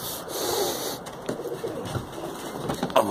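Pigeons coo softly inside a loft fitted with breeding boxes, with low murmuring calls and light rustling of wings and feet, nearby but not loud.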